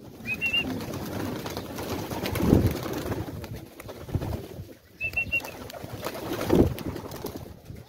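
Pigeons cooing on a rooftop where they are fed grain, with soft repeated coos and a couple of short higher calls, outdoors over steady background noise and no talking.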